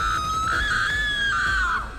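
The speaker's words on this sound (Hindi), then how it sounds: "ये सब देखकर प्रिया जोर से चिल्लाती है" A woman lets out a loud, sustained high scream as a horror-story sound effect, shrill and close, rising slightly and then falling away after about two seconds.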